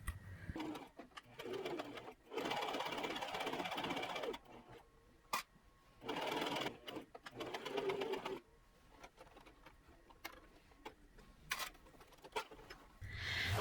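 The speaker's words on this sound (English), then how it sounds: "So I sewed up the side seams at that 1 inch allowance that I left for them." A sewing machine stitches the side seams of a gold kaftan top in several bursts of steady whirring, each a few seconds long, separated by quiet pauses with faint clicks. Close and clear, with no talk.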